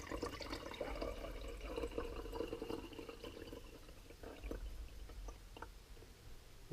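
Hydrogen peroxide is poured into a bottle, a quiet, continuous liquid trickle and gurgle filling the container, close and faint with small splashy drips, no talk.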